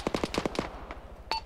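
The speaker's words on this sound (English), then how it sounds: "we're taking fire from too many angles" Rapid bursts of automatic gunfire in a military video game, sharp repeated shots packed into the first half-second, then a lone shot and a final crack after a short lull.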